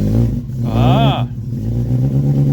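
A rebuilt A-series car engine catches and runs roughly, with a brief rising rev near the one-second mark over a steady low rumble; nearby voices are heard around it.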